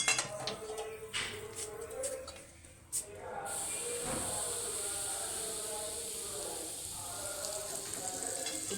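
Hot oil from a wok poured onto flour for puri dough gives a broad sizzling hiss that starts after a few clinks and light kitchen sounds and holds steady to the end, with no voices.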